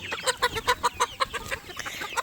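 A Silkie chicken clucks in a quick series of short, close, fairly loud notes, with no talking over it.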